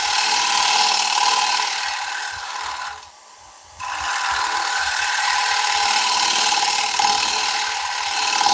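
Sandpaper held against a woodturning piece gives a loud continuous rasping hiss that drops away for about a second midway, then resumes steadily, close up with no speech.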